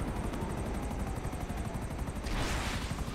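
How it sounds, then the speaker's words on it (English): Rapid gunfire from a GTA Online casino heist chase, dense continuous bursts rumbling under a helicopter's rotor drone, loud and close, with a brief louder burst near the end. "Someone shooting"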